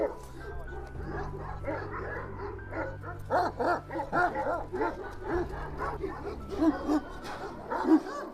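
A Kangal dog gives a run of repeated barks and yips at moderate distance, while someone talks over much of the sound and a low steady hum runs underneath.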